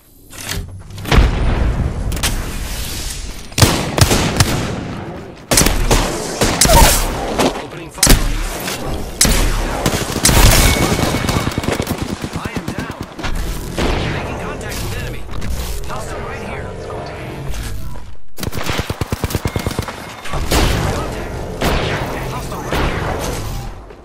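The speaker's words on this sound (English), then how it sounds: "Enemies are shooting at me." Enemy gunfire in Apex Legends, heavy bursts, booms and explosive thuds pile up continuously and loud, with brief lulls, mixed with game announcer voice lines.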